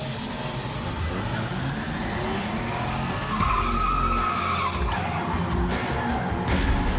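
Car drifting through turns in a drift contest, engine roaring as tires squeal and skid loudly, the screech swelling and shifting pitch midway and continuing to the end.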